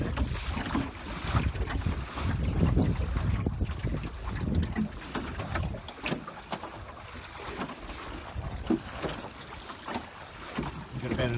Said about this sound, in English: The wind is really starting to drop off